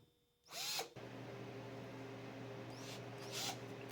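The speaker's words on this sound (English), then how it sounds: "Drilling." A power drill bores into a workbench light tray, two short high whirring bursts over a quiet steady hum, close by and fairly soft.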